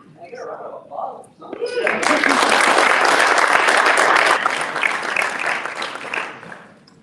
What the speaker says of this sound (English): I get a round of applause.